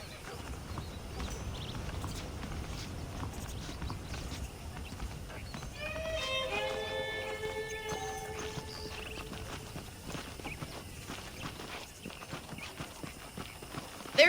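Horse hooves clip-clop steadily at a walking pace in the video game Red Dead Redemption, under ambient outdoor game sound, with a brief tonal chime around the middle.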